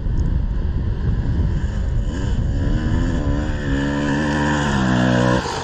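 A car engine strains loudly up a steep hill in third gear, its steady roar rising in pitch with clear climbing harmonics toward the end, heard alone over wind noise.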